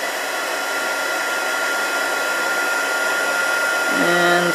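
A heat tool blows steadily to melt embossing powder in a paper-craft stamping project, a loud, continuous fan-like whoosh with a faint whine, no talk.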